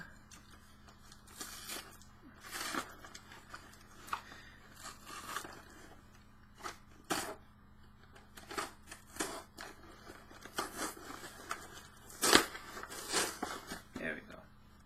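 A blade cuts through a cardboard comic mailer in short, close, scraping and crunching strokes spread irregularly across the clip, with faint speech in the background.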